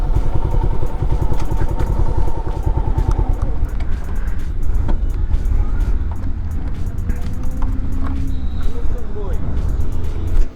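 A motorcycle engine idles and revs close by, with steady low thumping pulses and some clatter as the bike rolls into shade and stops on a road just past a toll; people talk over it.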